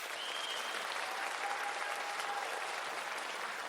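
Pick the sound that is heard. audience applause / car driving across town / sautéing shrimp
audience applause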